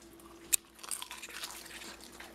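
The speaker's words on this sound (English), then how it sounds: "You can hear that crunch." A sharp bite crunch into a deep-fried crab rangoon filled with cream cheese and crab, dipped in sweet and sour sauce, sounding once near the start, close and crisp, followed by soft chewing sounds.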